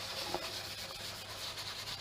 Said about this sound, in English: You're sanding it off.